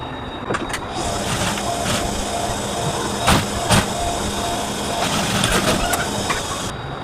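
Sewing machine running steady stitches along a halter-neck kurti seam, a continuous close mechanical whir with a few brief louder clicks, no talking.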